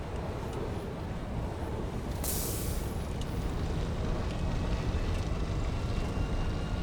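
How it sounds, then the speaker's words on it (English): A train rumbling past in Satisfactory, a broad continuous roar that holds steady and swells slightly toward the end, with a brief hiss partway through. "Here comes a train through here."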